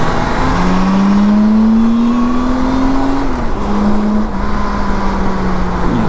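A loud motorcycle engine revs up in a rising drone, drops back, then holds a steady throbbing idle, close by and continuous.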